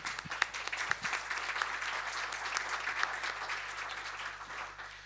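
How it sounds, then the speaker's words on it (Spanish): An audience applauds steadily and warmly at a women-of-the-sea event, a dense wash of clapping heard from a moderate distance that stays even throughout. "Un aplauso"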